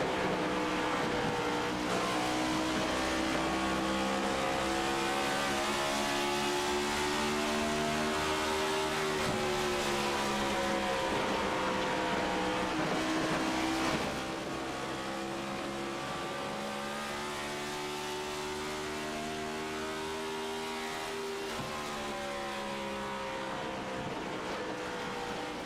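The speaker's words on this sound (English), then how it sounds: "So riding on board, you can hear the revs still in 5th gear." Onboard a third-place stock car lapping Rockingham Speedway, the engine holds a loud, sustained high-rev drone in fifth gear with no shifting, pitch rising and dipping gently through the corners, close and continuous throughout.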